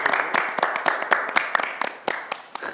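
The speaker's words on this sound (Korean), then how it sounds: "박수." Scattered hand claps from a small group, uneven and fairly close, forming brief applause that tapers off.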